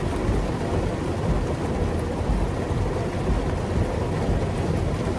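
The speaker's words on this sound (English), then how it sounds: "There's a lot of rain out there." A heavy thunderstorm downpour, heard from under an awning during live tornado and flash-flood storm chasing, is a close, loud, continuous roar of rain with a low rumbling undertone and no talk.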